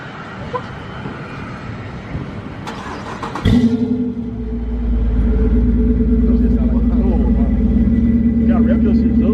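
A 2018 Dodge Charger with Super 10 mufflers and a resonator delete cranks and fires up with a sudden burst, then settles into a loud, deep, steady idle rumble, close by, as people talk over it.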